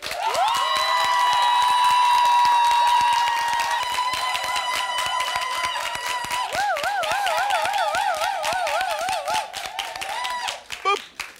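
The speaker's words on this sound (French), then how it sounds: "nous allons enregistrer vos applaudissements, cher public" Audience applause at a family music show, with dense, rapid clapping running the whole time under sustained tonal whistles and voices that waver and trill, thinning out near the end.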